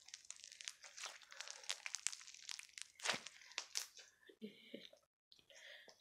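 Sheets of drawing paper are crumpled and crinkled close up in a run of crisp, crackling bursts with a few quiet pauses and faint whispery sounds.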